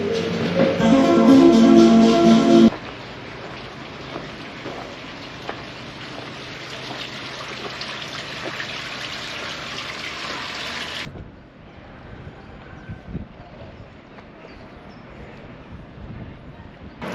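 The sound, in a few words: river flowing at Matlock Bath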